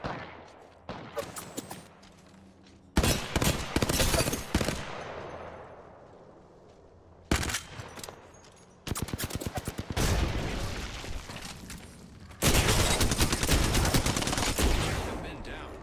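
Rapid automatic gunfire bursts in the video game Apex Legends, loud and close. Several separate volleys are broken by short silences and echoing tails, and the longest sustained bursts come near the end.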